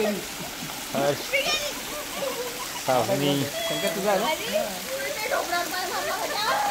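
Water splashes and sloshes as people swim on a seaside outing near Murud and Dapoli, with a steady watery wash under lively, overlapping voices talking and calling out throughout.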